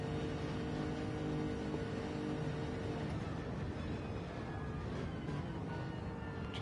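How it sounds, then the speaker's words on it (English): On-board engine note of a Lexus GT race car during the Nürburgring 24 Hours, a steady loud continuous drone with sustained harmonic tone heard from inside the cabin, no talk. "Just listening to his engine note."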